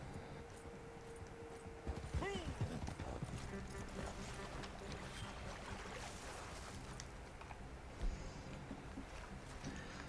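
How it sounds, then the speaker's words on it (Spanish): Horse hooves in the video game Red Dead Online clip-clop steadily and approach through a busy ambient game soundscape, with a brief whinny-like tone partway through. "El caballo que viene, pero se para"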